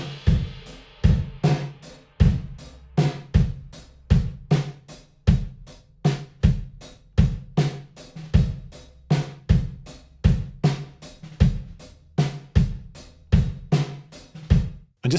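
A drum groove played through blended room and early-reflection convolution reverb, with steady, evenly spaced kick and snare hits, each hit trailing a short roomy tail. The playing is loud and continuous, with no voices.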